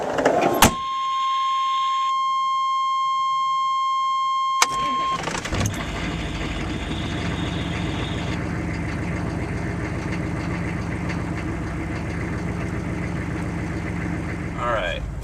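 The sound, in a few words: 6.5 diesel truck with HX35 turbo starting and idling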